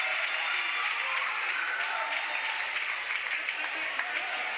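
Crowd at a girls high school basketball game cheering and applauding steadily after a made free throw, a dense, loud roar of claps and shouts throughout, with voices mixed in.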